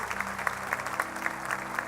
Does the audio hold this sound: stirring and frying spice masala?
no